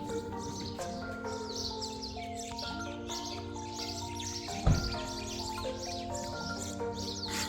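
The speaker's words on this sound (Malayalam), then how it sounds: "അപ്പൊ നമുക്ക് ഫുൾ ടൈം ആ കിളികളുടെ സൗണ്ട് ഇങ്ങനെ കേട്ടുകൊണ്ടിരിക്കാൻ കേട്ടോ ഗൈസ്" Small birds chirp and tweet repeatedly in the morning at a hillside resort in Vattavada, Munnar, with rising whistled calls returning every couple of seconds over a soft, steady ambient background.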